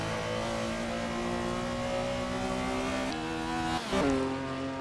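Engine of a 1973 Porsche 911 RSR Gr.6 accelerating in Assetto Corsa, a steady rising high-pitched race-engine wail with two quick gear-shift dips near the end, heard alone.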